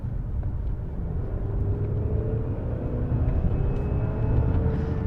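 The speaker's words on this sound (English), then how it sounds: "So I'm propelling the car forward with all four wheels, putting all of that power down" A 2024 Chery Tiggo 8 Pro Max seven-seat all-wheel-drive SUV accelerates, a steady low engine drone with a slowly rising tone, heard from inside the cabin without talk.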